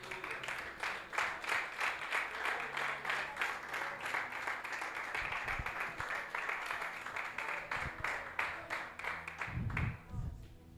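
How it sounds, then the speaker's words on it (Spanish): Church congregation applauding during an evening worship service, a steady wash of many hands clapping for about ten seconds with some low voices and thumps underneath before it tapers off. "Den un fuerte aplauso al Señor."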